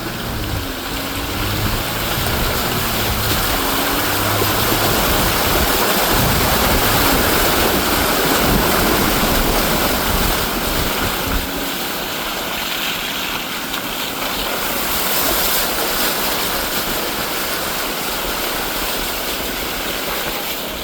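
A truck rolls off road through a muddy water hole, a steady loud broadband wash of water churning and splashing over engine rumble, sustained for about twenty seconds with the low end easing partway through.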